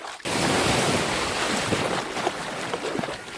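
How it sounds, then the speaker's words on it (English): Surf breaking on an ocean shore on a sunny day, a steady loud wash of waves with rising and falling swells, roughened by wind buffeting the microphone, with no voices. "Yes, this is the ocean."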